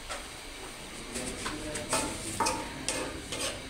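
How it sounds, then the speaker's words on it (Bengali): A spatula stirs red amaranth greens in a pan, with soft scraping strokes and faint sizzling, close and fairly quiet, recurring in short bursts. "এরপর আমি একটু নাড়াচাড়া করলাম খুন্তি দিয়ে নাড়াচাড়া করলাম, যাতে শাকটা নিচে থেকে লেগে না যায়।"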